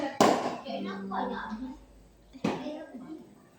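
Hands patted together twice during a tayammum demonstration, two sharp slaps about two seconds apart, close and fairly loud, with a voice talking between them.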